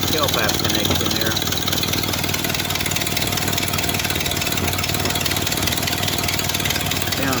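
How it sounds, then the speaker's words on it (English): A 1931 Ford Model A engine idles low, its exhaust rumbling in a steady, continuous beat with a slight leak at the tailpipe connection, close by and fairly loud throughout. "nice Model A sound out of the exhaust."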